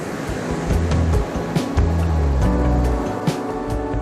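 Surf breaking on a beach on an overcast morning, a steady, fairly loud broadband wash with low rumbling swells rising and falling throughout, and no voices.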